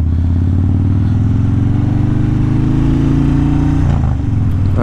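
A motorcycle rides over gravel on a winter road, its engine droning loud and steady close by, with a rough low rumble throughout and a brief dip in tone near the end.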